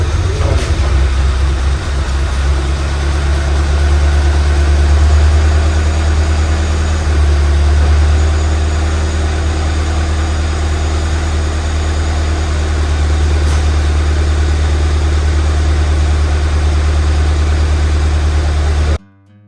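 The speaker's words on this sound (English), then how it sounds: "my dad insisted on starting it again just so that the coolant could flow through to the engine" A Ford Fiesta ST engine runs at a steady, loud idle after starting, with a deep even drone and no talking, cutting off abruptly at the end.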